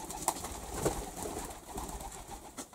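Feral pigeons coo at a feeder stocked with peas and sunflower seeds in the early morning, in a warm sheltered spot; a few soft, low coos and fluttery bird sounds rise faintly over the background, with no talking.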